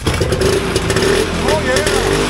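Vintage one-cylinder race snowmobile engine, a Ski Daddler, running after being cleared of flooding, a loud close rough buzzing roar with uneven pulsing revs throughout the short stretch.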